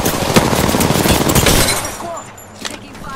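Rapid automatic gunfire in a fast Apex Legends battle, a dense close stream of shots for a couple of seconds that breaks off, leaving quieter clatter and a final isolated shot while a character voice calls out.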